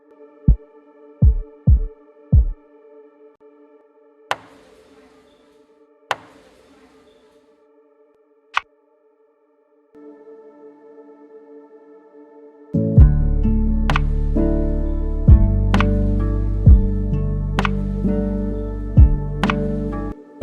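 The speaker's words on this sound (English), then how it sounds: "Just gonna add the drums and maybe call it a day." A sleepy, chill lo-fi beat built from a chord generator: a few sparse plucked hits and soft synth tones, then from mid-clip full drums kick in with steady kick and snare hits over sustained low chords, loud and upfront with no talking.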